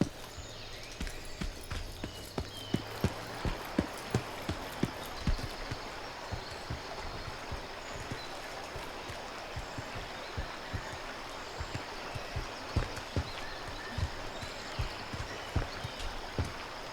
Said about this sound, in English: That's my footsteps. I thought that was an enemy's footsteps.